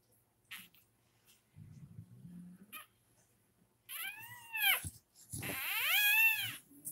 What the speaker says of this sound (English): You sound like you're going to be a loud puppy.